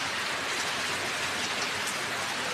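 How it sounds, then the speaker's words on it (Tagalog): Heavy rain pours down in a dense, constant hiss, loud and unbroken throughout, with no voices. "Malakas ang ulan."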